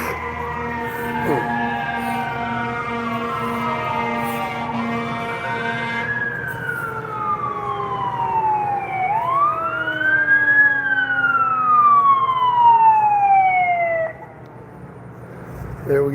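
A fire truck siren wails at an emergency scene outdoors, long rising and falling sweeps repeating over a steady engine hum, loud and near, cutting off sharply near the end.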